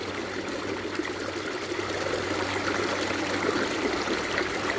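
River water rushing steadily through a gold mining sluice, a continuous close splashing and gurgling flow with no pauses and no talk over it.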